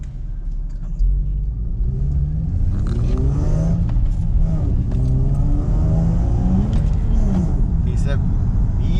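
A 6-speed rear-wheel-drive car accelerates on the road, its engine rumbling loud and close with rising revs through a gear change, under steady talk from the occupants.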